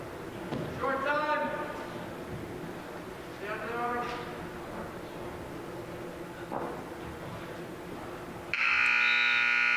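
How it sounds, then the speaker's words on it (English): A loud electronic buzzer sounds at the end of a round in a high school varsity wrestling match, cutting in suddenly at the close over crowd noise and a commentator's voice. "And there goes the buzzer for the end of round one"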